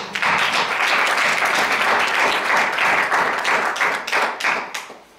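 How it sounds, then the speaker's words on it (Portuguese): An audience at a community development workshop session applauds loudly and continuously, a dense wash of many hands clapping that holds steady before tapering off near the end. "peço uma salva de palmas"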